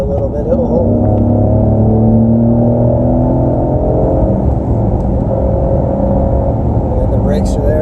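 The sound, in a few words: SUV engine accelerating while driving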